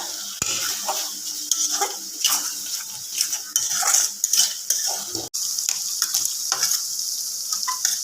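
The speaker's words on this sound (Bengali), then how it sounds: "ধনের গুঁড়ো আর জিরের গুঁড়ো এবার এই মশলাটা দিয়ে ভালোভাবে মেশানো হচ্ছে যতক্ষণ না তেল ছেড়ে আসে মশলাটা ভালোভাবে কষি নেওয়া হচ্ছে" Ground coriander and cumin masala is fried in oil in a pan, a continuous soft sizzle under repeated scraping and clinking strokes of a spatula against the metal, close and moderately loud.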